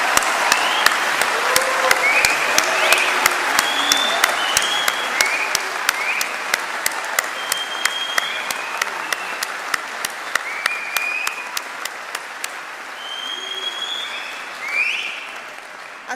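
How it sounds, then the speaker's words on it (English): Sustained applause from a large audience fills a university graduation auditorium for about sixteen seconds, steady and dense, with occasional brief cheers and whoops rising above it before it thins out near the end. "can we begin with a large round of applause"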